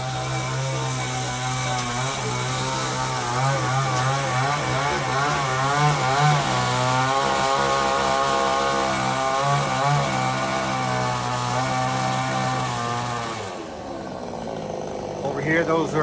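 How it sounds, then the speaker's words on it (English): A power saw rips 2x6 wood boards into 2x2 strips at a house construction site, a loud sustained whine with shifting pitch as the blade loads and eases, dropping briefly near the end. "They're cutting into 2x2 boards."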